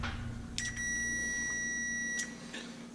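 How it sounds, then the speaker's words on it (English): A Fluke multimeter's continuity check gives a steady high-pitched electronic beep lasting about one and a half seconds, clear and close, over a low background hum. "we got the old fluke set to continuity check"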